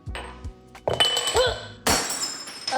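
Small glass jars crash and shatter on a hard floor indoors, with a sharp burst of breaking glass, clinking shards and a second loud smash near the end, close and loud.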